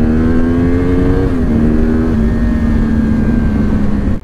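A 2013 Yamaha R1 motorcycle engine revs loudly and steadily nearby, its pitch holding high, dipping slightly midway and settling into a sustained throaty drone with no talking.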